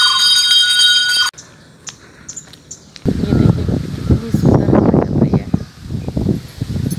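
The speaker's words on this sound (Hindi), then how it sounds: "वाला घंटी बजा रहा है, कूड़ा लेने आया है।" A garbage collector's bright bell rings briefly at the start, followed by outdoor rustling in a park, birds chirping and a distant muffled voice.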